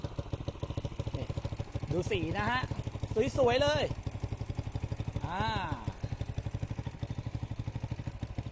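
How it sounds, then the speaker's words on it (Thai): A Honda JX110 110cc four-stroke motorcycle engine idles with a steady, even putter throughout, while someone talks over it in short bursts. "ขออนุญาตทำการสตาร์ท ก่อน เลยแล้วกัน ไม่ขึ้นปกตินะครับเพื่อนๆครับ วางเครื่องนิดนึง"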